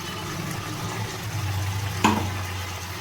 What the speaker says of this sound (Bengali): এবার আমি এটা ভালোভাবে এর সাথে কষিয়ে নেব।